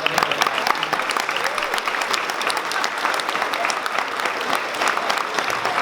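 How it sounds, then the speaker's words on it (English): Sustained applause from an audience at a school band concert where students stand for belt recognition, dense steady clapping filling the room for about six seconds with a faint voice underneath. "Round of applause for"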